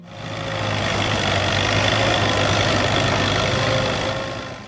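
An Allis-Chalmers WD tractor engine idles steadily and close, a continuous low rumble that swells in and fades out.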